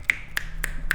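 Four crisp finger snaps evenly spaced about a quarter second apart, close and clear over a low steady hum, with no talking.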